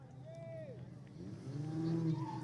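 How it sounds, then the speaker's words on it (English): Cars pulling out of the track at a drag racing event at Mission Raceway Park, engines droning and rising steadily over about two seconds, with people talking in the background. "We got our cars exiting right here."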